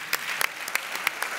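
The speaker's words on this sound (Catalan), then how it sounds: "Per tant, un aplaudiment per vosaltres." A small audience in Centelles claps at a local New Year gathering, a sparse burst of individual hand claps with sharp separate spikes, moderately close, no talk over it.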